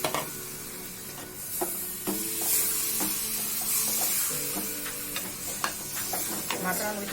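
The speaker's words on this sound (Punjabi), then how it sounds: "ਹੁਣ ਆਪਾਂ ਟਮਾਟਰ ਐਡ ਕਰ ਦੇਵਾਂਗੇ ਇਹਦੇ ਵਿੱਚ।" Tomatoes sizzling as they are added to and stirred into masala in a pan for Punjabi-style rajma, with a steady hiss, repeated spoon scrapes and clinks close by.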